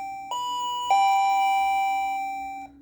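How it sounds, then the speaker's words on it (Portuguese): A repaired wireless plug-in doorbell chimes two bright tonal notes, the second louder and ringing out for about two seconds, over a steady low electrical hum. "é assim, gente, que vai funcionar a nossa campainha"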